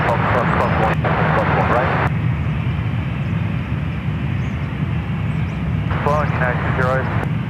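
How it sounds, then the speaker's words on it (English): An Aer Lingus Airbus A330 airliner arriving at San Francisco International Airport gives a steady loud engine roar, with someone talking over it at the start and again near the end. "So, all right, Air Lingus A330, next arrival on 28 right."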